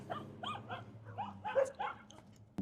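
Several small dogs barking across the street in a small town: a rapid string of yappy barks and yips, moderately distant and uneven in rhythm, with a few louder bursts near the end.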